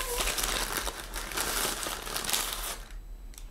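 A slightly soggy paper bag holding cinnamon rolls crinkles and rustles up close as pastries are unpacked, a dense run of crackling with no talk over it.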